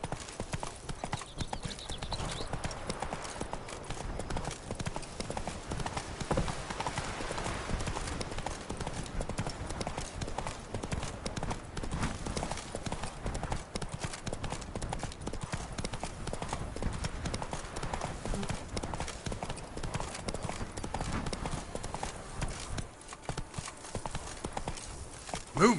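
Horse hooves galloping in The Witcher 3: Blood and Wine, a fast continuous clip-clop rhythm running loud and steady throughout, with a rider's voice now and then over the hoofbeats.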